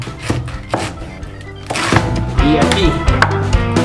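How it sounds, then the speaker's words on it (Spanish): A knife chops through cabbage on a board, cutting it into four pieces, with a few distinct thunks spread over a kitchen scene while a voice speaks briefly. "Y nuestro repollo, yo lo voy a cortar en 4 piezas nada más."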